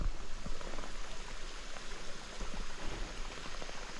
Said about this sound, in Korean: 계곡이야 계곡 물이 아주 맑습니다